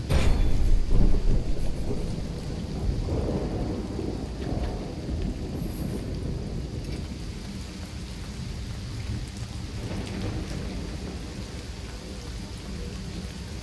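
Thunderstorm with heavy rain in the Risen 2: Dark Waters video game, a loud rumble of thunder opening over steady rainfall that continues as a dense, even wash to the end.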